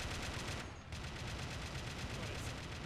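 Sustained rapid gunfire and explosions rumble in a British armoured assault in the Red Rising mod, dense and continuous with a brief dip, heard at a distance and fairly faint.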